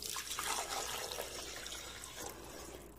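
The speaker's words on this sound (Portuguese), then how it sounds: "Aqui no copo do liquidificador nós vamos colocar toda a quantidade de água quente." Hot water pours into a blender jug for a two-ingredient strawberry gelatin dessert, a steady close splashing and gurgling stream that runs for about three seconds without talk.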